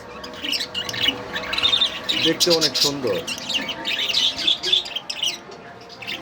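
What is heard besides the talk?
lutino budgerigar chirping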